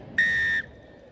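Single sharp referee's whistle blast, loud and steady for under half a second, signalling the start of the second half of a junior women's rugby match in wet Stellenbosch conditions.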